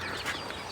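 Bantam chickens on a Jaffna chicken farm give a short, close burst of clucking, loud and alone with no talk.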